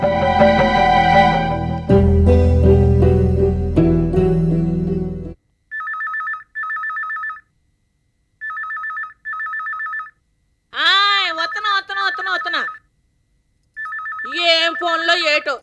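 A telephone in a home rings in short repeated electronic bursts with gaps between them, and people talk loudly before and between the rings.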